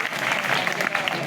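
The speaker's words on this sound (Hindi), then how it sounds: "तालियां बजाओ अपने लिए।" Students in a government higher secondary school classroom clap for themselves in a brief, dense burst of close, steady applause.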